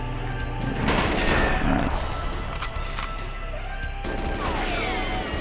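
Gunfire in the GoldenEye 007 Xbox remaster, loud dense shots and crashing impacts over game noise, with a brief spoken word from a player.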